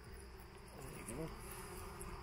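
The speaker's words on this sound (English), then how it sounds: "Busy little hive. And you see the different colour pollens they bring in from different things." Honeybees hum at a busy hive in a faint, continuous buzz with a soft voice briefly underneath.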